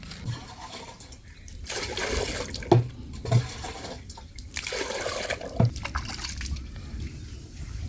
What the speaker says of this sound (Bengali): একবার এতে জল দিয়ে দিলাম আম পাতাই দিয়ে দিলাম এর ভিতরে